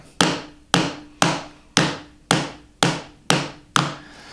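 Eight firm, evenly spaced taps ring out one after another around the edges of a wooden keepsake box during glue-up, each strike sharp and close with a short decay.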